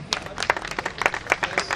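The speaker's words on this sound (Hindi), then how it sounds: "हार्दिक तालियां" A crowd at a public gathering claps to welcome a speaker, a brief burst of scattered, mixed handclaps nearby with voices faintly underneath.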